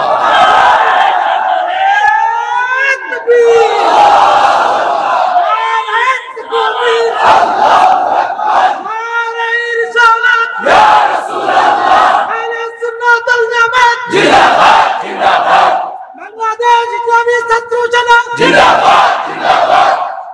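A large crowd at an Islamic religious gathering in Bangladesh chants slogans in loud, rhythmic call-and-response bursts, many voices shouting together in unison with short pauses between each chant.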